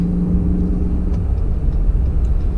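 A new 2019 Ram 2500 pickup truck's engine hums and rumbles steadily from close by while accelerating, a continuous low drone with no clear change in pitch.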